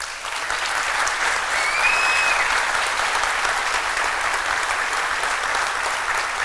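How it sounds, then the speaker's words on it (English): A crowd at a bourbon distillery announcement gives a round of applause, a continuous, even roar of clapping that holds steady from start to finish. "Let's give them a round of applause."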